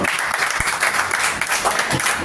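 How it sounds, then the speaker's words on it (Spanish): A church congregation claps for the Lord in a steady burst of close, fairly loud applause, with a few sharper individual claps standing out. "Dele ese aplauso al Señor"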